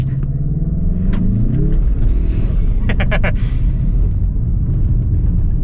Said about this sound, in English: we've got to do a little bit of a launch, so we'll hold the brake down slightly